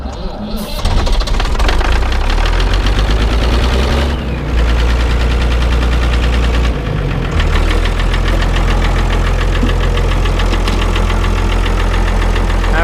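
A car engine with a blown head gasket runs rough and loud, knocking and rattling steadily with a heavy low rumble, briefly dipping before surging again.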